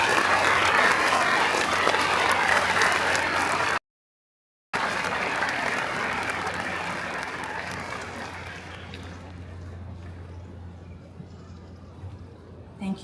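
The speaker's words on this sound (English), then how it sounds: "Let's give them a round of applause as they come up to the stage" A high school graduation audience gives sustained applause as graduates come up to the stage, a dense wash of clapping from a large crowd that cuts out briefly, then resumes and slowly fades toward the end.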